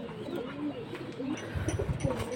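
Pigeons coo in low, throaty murmurs nearby, repeating in soft rolling phrases with faint chirps mixed in.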